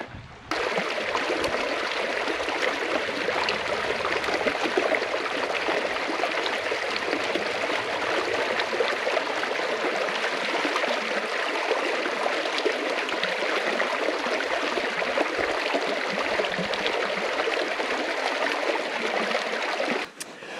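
A river in the rugged Mazatzal Wilderness of Arizona flows steadily past a campsite. The water keeps up a constant, fairly close rushing and gurgling wash with no talk over it.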